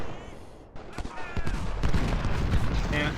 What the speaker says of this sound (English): If I can get Alan to shoot into them